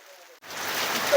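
Rain falls steadily on a kite market in Vadodara during an unseasonal downpour, starting abruptly as a dense hiss after a brief faint voice and growing slightly louder.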